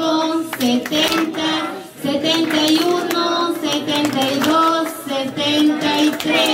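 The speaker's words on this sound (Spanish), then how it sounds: "Fuertes aplausos para don Francisco." A crowd in Xepepen, Joyabaj, Quiché, Guatemala claps loudly and steadily for several seconds, with voices and cheering mixed into the applause.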